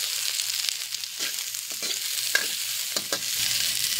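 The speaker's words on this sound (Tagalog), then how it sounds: "Una natin ilalagay ang ating sibuyas. Sunod natin ang ating bawang" Chopped onion and garlic sauté in a pan with a steady sizzle and several close spatula stirs and scrapes, with no voices.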